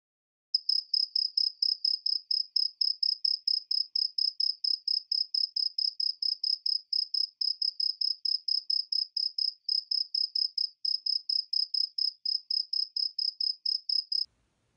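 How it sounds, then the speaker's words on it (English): Crickets chirp steadily in a fast, even pulse of high trills, close and clear against an otherwise silent night. "I thought it was the sound of crickets chirping"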